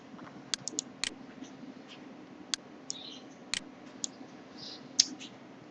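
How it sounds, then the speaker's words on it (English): A computer mouse clicks sharply several times at irregular intervals, crisp and close against a quiet background hum, with no talking. "and click on start"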